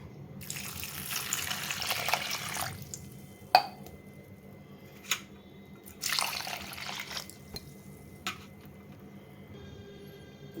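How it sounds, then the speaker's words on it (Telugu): Water poured from a vessel into a cooker of wheat rava kichidi with tomato, moong dal and chillies, two separate pours of steady liquid splashing with short clinks of metal in between, close and clear. "నీళ్ళు పోసుకోవాలి."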